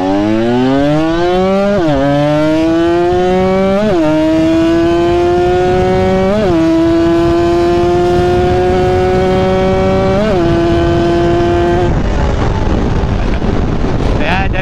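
Tuned motorcycle with a daily-use setup and a replaced clutch spring, revved hard up through the gears to sixth: a loud, rising engine whine climbs and drops at each of five quick shifts, with wind rushing over the microphone.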